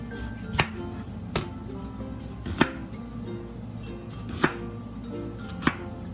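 Onions are chopped with a knife on a board in five or six sharp, separate strikes spaced unevenly about a second apart, close and clear over a faint background hum.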